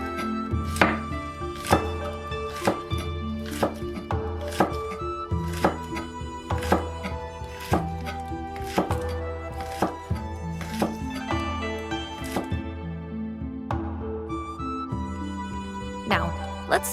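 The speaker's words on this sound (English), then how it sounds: "Next, thinly slice the green onions and set them aside." A knife thinly slices green onions on a cutting board for Korean rice cake soup, giving a quick, regular run of crisp chops close by over steady tonal background music.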